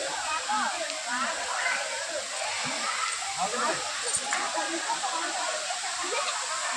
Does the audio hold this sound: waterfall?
yes